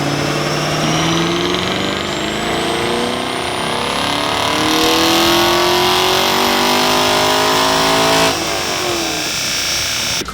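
A supercharged 2017 Chevrolet Camaro SS 1LE V8 on a dyno, engine revving loudly with a steadily rising pitch as it climbs through the gears, then cutting off sharply near the end.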